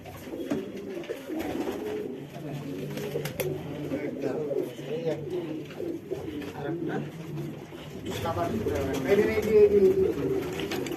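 Several pigeons coo in soft, throaty, overlapping calls nearby in a pigeon loft, with a person talking over them now and then.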